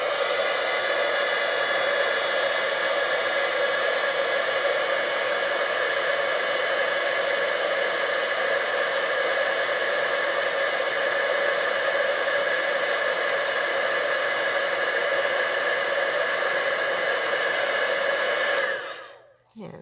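Heat tool blowing hot air onto a paper card, a loud steady whooshing roar held close and unbroken for almost twenty seconds before it clicks off at the end.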